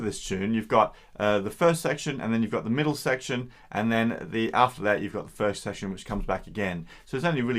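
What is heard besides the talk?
No everyday noise stands out behind the speech.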